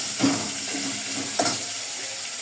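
Beef sears in melted butter in a hot pan with a steady, close sizzling hiss and a couple of brief louder spurts, and no talking.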